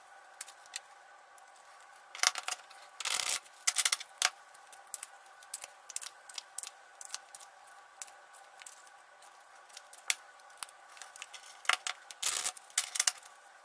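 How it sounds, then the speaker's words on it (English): A deck of playing cards is shuffled close up. Soft, crisp riffling bursts and flicks come in irregular clusters, with quiet gaps and light handling clicks between them. "the first thing we're gonna do is we're gonna shuffle these cards"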